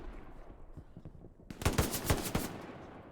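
Bursts of machine-gun fire from a set-up MG in the Hell Let Loose World War II shooter, a low quiet stretch first, then loud rapid volleys of shots crackling close by for the last half, with no talking.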